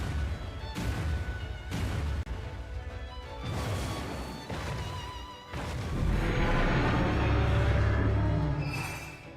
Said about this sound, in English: It's a flashbang.